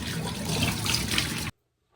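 Tap water runs in a steady, close splashing stream for about a second and a half, as for washing hair, then cuts off abruptly into silence.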